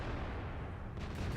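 Tank cannon fire in World of Tanks during a duel with a T-54, heard as a steady low rumbling barrage of blasts with no distinct gaps across the short stretch, loud and dense.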